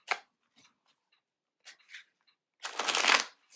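Tarot cards are shuffled at close range: a few light riffles and taps, then one loud, crisp burst of shuffling near the end.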